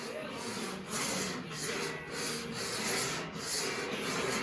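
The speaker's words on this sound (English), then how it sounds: "when you're block sanding, got the Dura block here" Body filler being block sanded with a Dura block on a Chevy C-10 squarebody truck tailgate, a steady close-up scraping rasp in repeated back-and-forth strokes.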